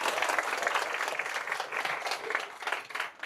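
An audience at an author's talk event claps together in a continuous, even wave of applause, fairly close and unbroken from start to finish.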